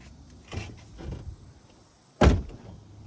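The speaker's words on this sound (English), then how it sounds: "So the door's shut good, it's just a little whacked out of shape." A slightly bent door on a gray manual five-speed car with tan interior slams shut once, near and loud, after a couple of softer clunks and rustles.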